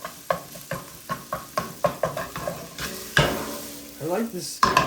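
Beef stir-frying and sizzling in a steep-sided pan for a beef and bell pepper stir fry: a string of regular scraping stirs over a steady sizzle, then a louder burst as the food is tossed, close and clear with no talk.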